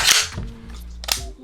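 A Palmetto State Armory JAKL rifle gets a function test: two sharp, close mechanical snaps of the trigger and action about a second apart, with a short metallic rattle between them.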